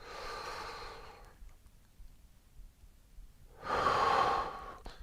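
A long, slow breath during a yoga stretch, an audible exhale that fades into quiet, then a stronger, louder breath about three seconds later, close and alone with no talking.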